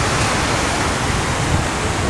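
Steady roar of cold Pacific surf breaking on the Chilean coast near Viña del Mar, a dense continuous wash of waves heard alone without voices, loud and unbroken throughout.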